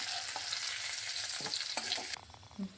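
Whole garam masala spices frying and sizzling in a pan with stirring, a steady close crackling hiss with a few scraping stirs, no talking.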